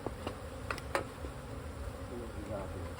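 Honeybees buzzing at an open hive while a second brood box is added, a steady insect drone with a few brief louder passes close to the microphone; faint sounds of handling come through underneath.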